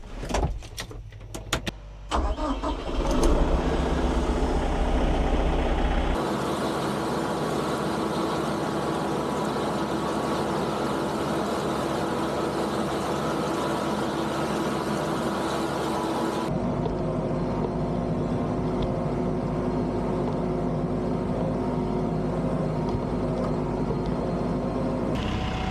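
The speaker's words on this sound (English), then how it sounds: "That drum mower is working really good" A tractor pulling a drum mower through hay in a video game, a loud continuous engine and machinery drone after a few clattering knocks at the start, with abrupt shifts in tone along the way.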